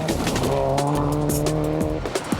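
A rally car in the 2005 Australian Rally Championship slides sideways after a tyre catches in a gutter. A loud, sustained tyre squeal with a steady tonal whine sits over engine noise for about two seconds, close by.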